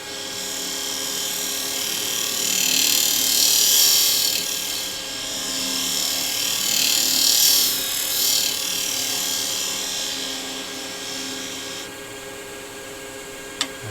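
Woodturning tool scraping scorch marks from the inside of a spinning wooden box on a lathe, a loud continuous motor whine with a rising and falling gritty scraping texture, ending with a brief knock.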